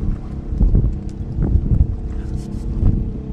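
A strong northeast monsoon wind buffets a fishing boat at sea off Palawan, a steady rough low rumble of gusts and microphone wind noise with faint splashes, close and continuous without speech.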